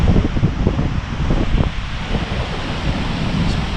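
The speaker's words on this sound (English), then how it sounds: "That's the top of the Falls of Glomach." A broad, steady roar of heavy falling water from the top of the Falls of Glomach, a high waterfall in a Highland gorge, dense and continuous with buffeting wind.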